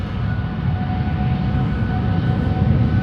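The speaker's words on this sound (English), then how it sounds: "This is KLM Flight 605, 787-10 Dreamliner to San Francisco." KLM Boeing 787-10 Dreamliner departing Amsterdam Schiphol Airport, a loud, continuous low jet engine roar with a faint steady whine above it.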